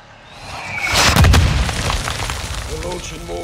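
Mortar explosions in Call of Duty Modern Warfare 2: a deep boom swells in and rumbles away over a few seconds, with a voice heard near the end.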